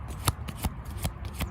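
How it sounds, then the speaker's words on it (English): A deck of cards is shuffled, with soft quick riffles and a few sharper snaps, close and quiet. "Let me shuffle again."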